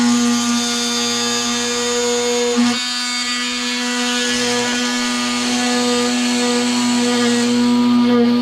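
A multi-tool with a blunt blade cuts through an air-conditioning pipe on a Ford ST150, giving a steady close buzzing drone with a brief dip partway through and no talk.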